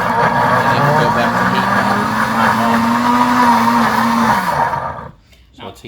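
A heated blender running in blend mode makes a loud, steady motor whir with a slowly rising pitch. It cuts off near the end, and a voice talks over it.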